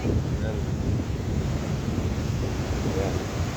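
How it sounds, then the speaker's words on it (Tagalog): Rough sea surf roaring steadily around a boat, with heavy wind buffeting the microphone, loud and continuous with no pauses. "maalon pa rin yung dagat"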